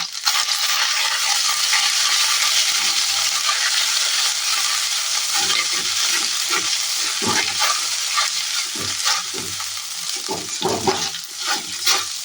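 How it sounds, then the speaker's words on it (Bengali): Chow mein with peanuts, soya chunks, carrot and potato stir-fried in a pan: a loud continuous sizzle with repeated scraping and tossing clatters from stirring, close up and without talk. "চাউমিনটা বানাবো একটুখানি বাদাম দিয়েছি আর এই ছোটো ছোটো বললাম সয়াবিন দিয়েছি হ্যাঁ যে গাজর আর আলু আর কিচ্ছু না"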